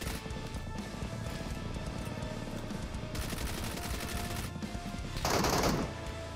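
Gunfire in the PUBG Metro Royale mode comes as dense, rapid bursts of shots at moderate distance, with a loud crashing impact near the end and no talk over it.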